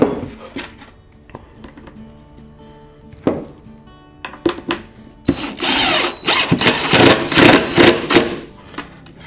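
Power drill driving screws into a wooden wood duck nesting box, with short spaced bursts of whirring at first, then a longer loud stretch of repeated revving pulses at close range.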